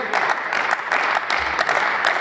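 Audience applause following a political speech on Austria's vaccine mandate law, dense clapping from many hands that swells and dips in waves across two seconds.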